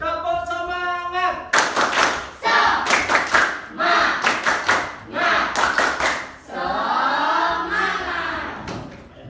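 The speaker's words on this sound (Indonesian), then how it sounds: "Tepuk semangat." A classroom of pupils does a rhythmic spirit clap led by a teacher, loud bursts of patterned clapping in several groups with shouted voices between and around them.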